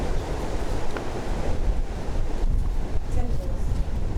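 Tropical storm wind and rain in California, a constant roaring gust noise buffeting the microphone with a dense wash beneath it, loud and unbroken.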